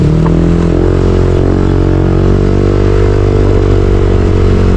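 A motorcycle engine drones loudly and steadily close by, its pitch shifting slightly as it rides along, with a rough rumble throughout.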